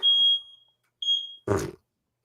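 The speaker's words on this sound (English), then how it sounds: "It's the smoke detector" Household smoke detector sounding two sharp, high-pitched electronic beeps, each about a third of a second long, followed by a brief loud burst of another sound in an otherwise quiet room.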